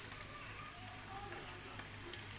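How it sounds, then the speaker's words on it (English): Shrimp paste (bagoong), about three-quarters of a tablespoon, sautéing in a pan for a Filipino squash and string bean dish with pork, giving a steady, soft sizzle and crackle throughout, faint and close, with no talking. "saute this for a few seconds"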